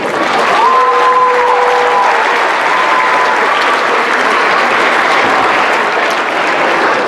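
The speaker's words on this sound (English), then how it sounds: "Let's give another round of applause, if you'll hold that for a second, for each one of our performing groups this evening." Sustained applause from the audience at a middle school choral showcase, honoring the performing choir groups; dense, steady clapping fills the hall for the full stretch, with a few whistle-like tones and cheers rising briefly above it.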